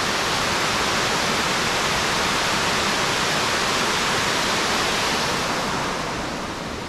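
A river rushes steadily with dense, broadband churning water noise, loud and close, unchanging over several seconds with no voices.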